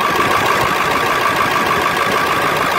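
A 2001 Ford F250 with a 7.3L diesel idles steadily after a cold start on a warm day, a loud, close, continuous rumble with a knocking clatter and an air compressor running.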